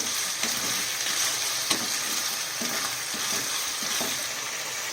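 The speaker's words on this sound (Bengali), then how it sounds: "এবার আমি চিকেনটা দিয়ে দেব, দিয়ে ভালো করে নাড়াচাড়া করে নেব।" Chicken pieces with onion and spring onion greens stir-fried in a hot pan, a steady close sizzle with occasional scraping strokes of a spatula throughout, no voices.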